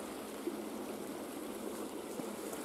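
A river in Omsk Oblast, Russia, flows toward a pipe laid under a gravel crossing, making a soft, continuous gurgle and trickle at moderate distance, steady throughout with a couple of tiny splashes.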